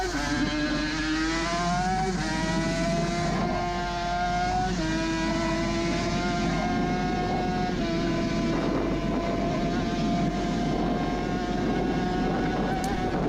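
A Suzuki RG500 two-stroke racing motorcycle at the Isle of Man road races screams close onboard, its pitch climbing and dropping through gear changes under heavy wind rush.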